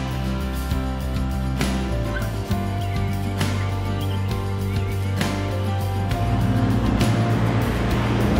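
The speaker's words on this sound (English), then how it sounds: "Mercedes 400D G-Wagon, the awesome 3-litre turbo diesel straight six, and I am here for it." Mercedes 400D G-Wagen with a 3-litre turbo diesel straight six, driving off-road in the South African wilds, a steady loud engine drone with rattles and thumps over rough ground.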